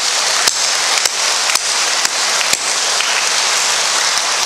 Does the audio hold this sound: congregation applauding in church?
yes